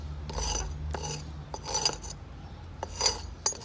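Claw hammer scraping at soft sand and Portland cement mortar in a box beam, heard as a series of short gritty rasping strokes, close and moderately loud, with pauses between them.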